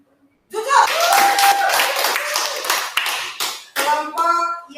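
Students in a classroom clap their hands in a loud, dense burst of many overlapping claps. The clapping breaks off briefly and then resumes, with children's voices mixed in.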